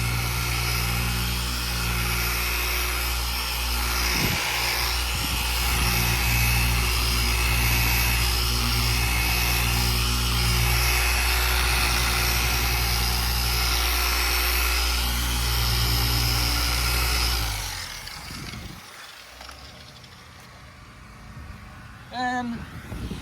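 A polishing machine runs with light pressure during car paint correction, a steady, loud, high whine holding for most of the stretch before it winds down and cuts off near the end.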